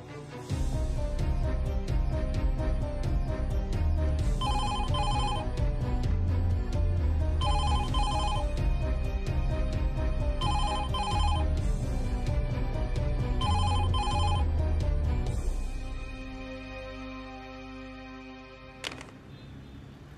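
A telephone rings unanswered in a Marathi TV serial scene, in four evenly spaced bursts of bright trilling over steady background music, before the music fades out.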